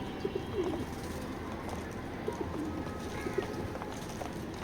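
A racing pigeon at a loft coos softly in short repeated phrases spaced a couple of seconds apart, faint against a steady background hiss, with no one talking.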